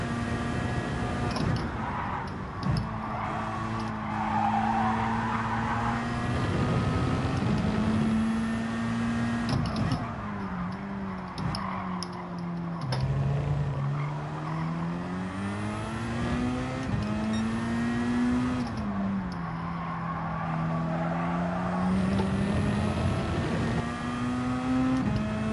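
A race car engine in Gran Turismo 7 revs steadily with rising and falling pitch sweeps, loud and continuous throughout, with no clear tire skid standing out.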